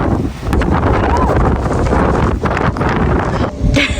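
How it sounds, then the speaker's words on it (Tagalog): Strong wind buffets the microphone in snowy Greenland, a loud, roaring, gusty rush that fills the whole moment, with faint rustling beneath it. "grabing lakas ng hangin"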